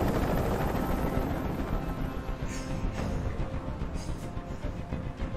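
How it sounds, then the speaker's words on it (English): A helicopter hovers overhead in the video game Detroit: Become Human, a steady loud rotor drone filling the scene without pause. "Tell that helicopter to get out of here"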